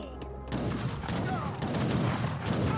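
Musketeer volley fire in an Age of Empires 3 battle, a dense crackling fusillade of overlapping game gunshots running continuously after a short quiet opening.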